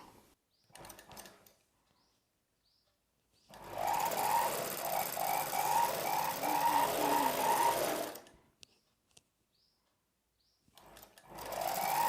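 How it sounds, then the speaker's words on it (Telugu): Electric sewing machine stitching a saree blouse piece, a steady loud mechanical whirr running for about four and a half seconds between short bursts and quiet pauses. "సెకండ్ కుట్టు ఇలా వచ్చేలా పెట్టుకొని ఇప్పుడు కుట్టు వేసేసుకోవాలి"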